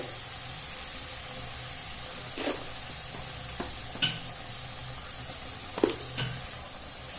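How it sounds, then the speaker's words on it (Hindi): Masala for stuffed bitter gourd stirred in a pan, a faint low sizzle with a few sharp scraping strokes of a spoon at irregular intervals. "अब ये मसाला के हम अच्छी तरह मिला ले छिए और एक हम खूब अच्छी तरह भून ले"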